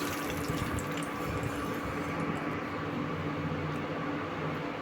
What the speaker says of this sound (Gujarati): એની અંદર આપણે એક કપ જેટલું પાણી ઉમેરીશું